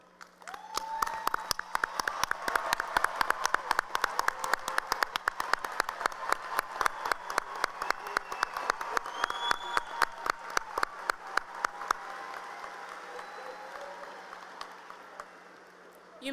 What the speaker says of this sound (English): Parents, guardians, please stand and allow us to applaud you.